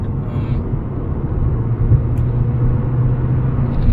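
An insurance write-off car on a road test at speed, with a steady low engine and road rumble from inside the cabin that swells slightly partway through and holds loud and constant.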